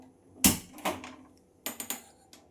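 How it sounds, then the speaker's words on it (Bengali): A gas stove is switched on in a home kitchen: a few sharp igniter clicks and knob snaps, one near 0.5 seconds, another soon after and a quick cluster later, close by and fairly quiet, with no talking. "গ্যাসটা অন করে দিলাম।"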